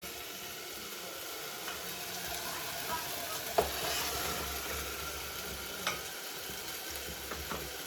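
Chopped onions frying in a pan for a pasta gravy, giving a steady, quiet sizzle with occasional stirring clinks against the pan.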